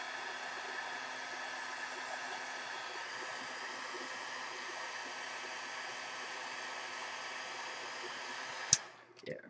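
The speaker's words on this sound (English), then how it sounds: "heat gun" Steady broadband whoosh of a heat gun drying an embellishment on a Texas wildflower mini album craft, running continuously close by for about nine seconds, then cutting off with a brief click and clatter at the end.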